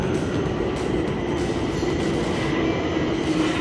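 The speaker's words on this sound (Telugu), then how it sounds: "underground train" A steady rumbling roar of an underground metro train in motion in Romania, with a faint high squeal from the wheels over constant low-frequency noise.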